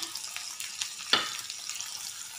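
Onions, moong dal, cumin and mustard seeds frying in a pan give off soft, quiet sizzling and crackling, with one brief louder pop partway through.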